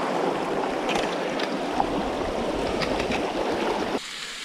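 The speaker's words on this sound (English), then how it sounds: "A lot of water flowing, which is awesome." A spring-swollen stream on the Ozark Trail's Taum Sauk section rushes and burbles continuously nearby, steady and fairly loud before dropping off abruptly near the end.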